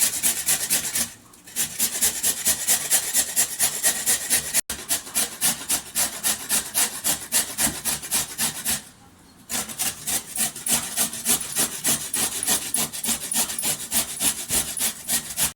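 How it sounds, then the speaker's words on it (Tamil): Yellow pumpkin being grated on a vegetable grater for halwa, a rapid rhythmic rasping scrape repeated in fast strokes with two brief pauses, close and clear with no talk. "இதை இப்போ நம்ம காய் சீச்சுறது வச்சு நல்லா சீவி எடுத்துக்கலாம்"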